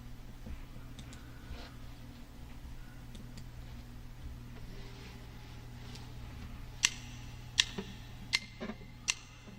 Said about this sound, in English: So you notice that there was 4 clicks, which were actually eighth notes.